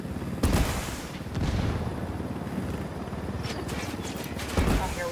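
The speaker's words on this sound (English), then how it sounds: "Opening fire on these fuckers." Gunfire in Tom Clancy's Wildlands erupts in a few heavy, booming shots over a dense, continuous rumble of battle noise, loud and close throughout.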